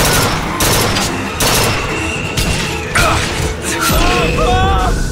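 BioShock Infinite combat gunfire, dense rapid shots and crashing impacts blending into a loud continuous fusillade, with a few higher mechanical whines near the end.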